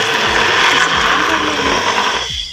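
A hand blender grinds frozen beef for shami kabab with a loud, dense whir and rhythmic low thumps, close up, before the motor cuts off near the end.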